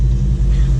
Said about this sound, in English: Rev it up, dump the clutch.